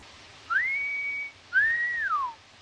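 A person whistles two sustained tones in a playful imitation, a level held note followed by a second that rises, holds and slides downward, close and clear against a quiet background.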